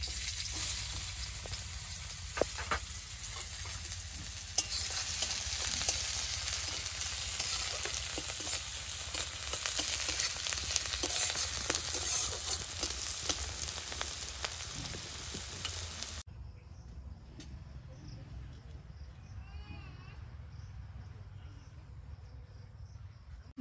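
Chopped onion fries in hot oil in a pan for Bihari-style egg curry, a loud dense sizzle with stirring scrapes for about sixteen seconds, then dropping to a much quieter simmer.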